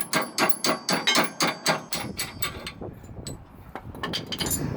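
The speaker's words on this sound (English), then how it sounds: "get a hammer underneath there and bang it through" A hammer bangs a rusted rear strut out of a Dodge Caliber with about ten rapid, loud metallic blows in a steady rhythm, followed by quieter knocking and clattering.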